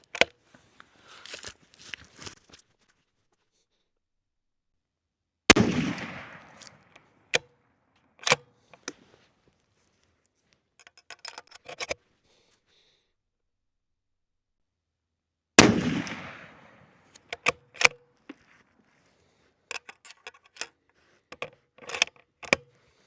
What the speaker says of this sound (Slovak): Teraz si odstrieľame toto isté, 24-palcová hlaveň, stúpanie 1:10, identické náboje, ČZ 557